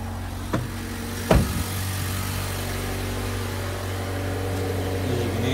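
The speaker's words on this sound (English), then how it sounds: "What I'll do is I'll start it up, that way you can hear it." A Mazda 6 engine cranks with a short starter burst, catches, and settles into a steady, even idle heard up close, with no one talking.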